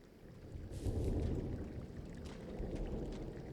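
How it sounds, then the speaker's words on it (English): Thunder in the Firewatch video game rolls as a low, muffled rumble that swells early and lingers fairly steadily to the end. "Hey, I heard some thunder."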